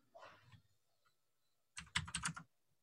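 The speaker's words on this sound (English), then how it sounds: "We're typing." Typing on a computer keyboard during an online meeting, a brief muffled tap sequence followed by a quick close burst of crisp keystrokes, then silence.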